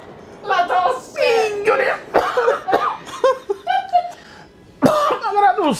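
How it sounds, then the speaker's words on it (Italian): Several sharp coughs break out among excited voices and laughter during a VR gaming session, close and fairly loud, mixed with talk throughout. "La tosse."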